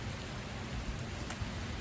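Light rain sprinkling steadily with droplets dripping off overhead trees, a soft continuous patter close by with no voices.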